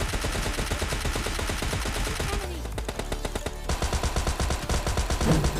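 PP-Bizon gunfire in the mobile game PUBG Mobile Lite: rapid, dense automatic bursts that run almost nonstop at close range, with a short lull midway and other game sounds mixed in.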